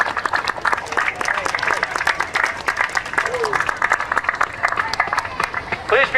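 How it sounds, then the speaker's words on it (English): An audience at a Lockport remembrance meeting rises in standing applause for the youth attending, with sharp, distinct claps mixed with a murmur of crowd voices, sustained and close throughout. "Let's give them a standing round of applause"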